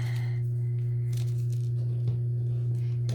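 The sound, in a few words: tearing tape to tape the backs of signs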